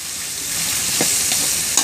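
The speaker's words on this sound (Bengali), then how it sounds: "গাজরগুলো 1 মিনিট ধরে ভেজে নেব।" Carrots frying in a pan for a pulao made with flattened rice, giving a steady sizzle with a couple of brief stirring scrapes near the end.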